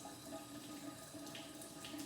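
A narrow stream of running water pours from a tap, giving a steady, faint, continuous hiss and splash with no pauses and no voices.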